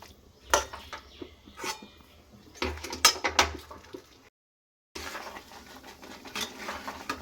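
Jaggery and raw mango pickle stirred in a pan over low heat, giving soft repeated scraping and clinking of a spoon against metal in uneven bursts, with a brief silent gap midway.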